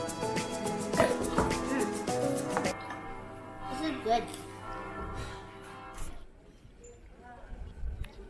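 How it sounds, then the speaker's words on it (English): A church bell rings in the old town of Idstein, Germany, its sustained tones hanging in the background beneath close conversation and outdoor street bustle. "Oh, do you hear the bell?"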